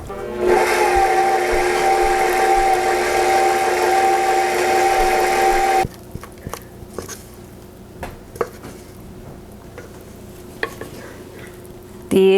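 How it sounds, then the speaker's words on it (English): A stand mixer whirs steadily for about six seconds, loud and close, beating batter for sheet pancakes, then shuts off, leaving faint kitchen clatter and small knocks. "now we're gonna put this on our mixer, mix it up well"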